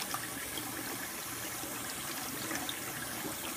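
Hot water runs steadily from a tap over glass bottles to loosen their labels, a continuous close splashing stream with no speech.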